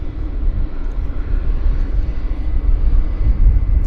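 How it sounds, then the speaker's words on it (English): Big airliner jet engines spool up at Vancouver Airport as a steady, loud, broadband rumble that builds slightly toward the end, heard alone without talking. "Starting up. I'm hearing big engines."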